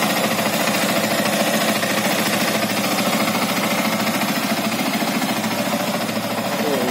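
A 2017 Yamaha Vixion motorcycle engine with variable valve actuation idles close by, producing a steady, even mechanical rumble with a fine rapid ticking, constant in loudness throughout.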